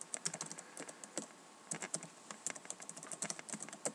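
Quick, quiet typing on a computer keyboard, a close, irregular patter of light key clicks in short runs with brief pauses.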